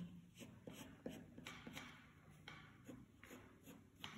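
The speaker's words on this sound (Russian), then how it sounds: "Прям по контуру прохожусь и сейчас прожилки прорисую." A black marker or pencil traces the outline of a maple leaf drawing on paper, making faint, close scratchy strokes in short repeated bursts with small pauses between them, no voice heard.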